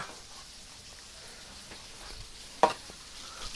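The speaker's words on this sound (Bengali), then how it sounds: "পুঁটি মাছ ভাজা চড়চড়ি" Puti fish frying in a pan: a faint, steady hissing sizzle of hot oil throughout, with a single brief sharp pop or crackle partway through.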